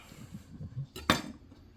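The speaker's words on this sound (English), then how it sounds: "I'm using a pretty hefty knife because I'm cutting through this tough hardened embryo" A hefty knife cuts through a tough, hardened mango seed embryo, giving one sharp, close crack amid quiet, low handling noises.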